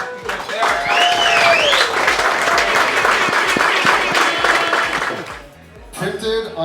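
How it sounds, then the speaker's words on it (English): Crowd applause and cheering at a celebration for the UH men's volleyball team in a restaurant, loud and continuous with voices and whoops mixed in, dropping off briefly before a few scattered claps and chatter. "So give them a round of applause because they are."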